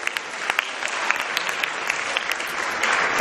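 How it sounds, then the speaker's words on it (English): Applause from a crowd of children at a Save the Children centenary celebration in Nigeria, a dense, steady clapping that holds evenly and swells slightly toward the end. "Give yourself another round of applause."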